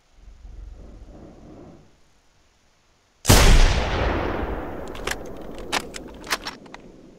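A rifle shot in the hunting video game theHunter: Primal, on a meadow mountainside, fired after a quiet pause. It is one sudden, loud, booming blast with a long rolling tail, followed by several sharp metallic clicks.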